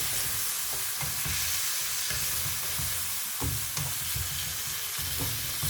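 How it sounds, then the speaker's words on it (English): Three chopped tomatoes stirred in a hot pan for a handi kabab, steady sizzling frying with scraping stir strokes recurring every second or so, close and fairly loud with no talking. "I'm going to add 3 chopped tomatoes, mix them"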